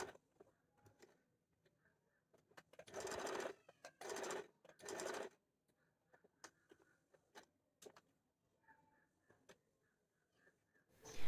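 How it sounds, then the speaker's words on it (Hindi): A sewing machine stitches around a puff sleeve in three loud runs of a few seconds each, separated by quieter handling clicks and brief pauses. "तो देखिए इस तरह मैं इस पर सिलाई लगा के दिखाती हूँ आपको।"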